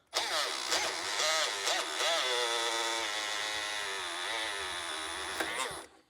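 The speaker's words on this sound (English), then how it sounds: "Now this bit I'm using is a 16mm paddle bit." A power drill spins a 16mm (5/8 inch) paddle bit through a hole while installing 6x9 speakers on a Harley Davidson motorcycle, a steady, loud whining drone that runs about six seconds, holds a fairly even pitch and stops abruptly at the end.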